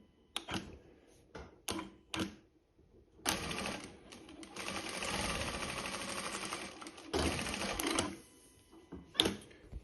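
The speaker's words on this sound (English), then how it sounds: "now if we sew another line" A home sewing machine stitches a line through fabric. Short whirring bursts start and stop at first, then give way to a longer, steady mechanical chatter before the machine stops. It sounds close and fairly quiet, with no talking.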